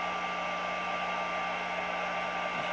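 A hair dryer blows steadily and loudly without a break while the inside of an opened tea sachet is dried, giving a constant close whooshing hum with a faint tonal whine and no speech.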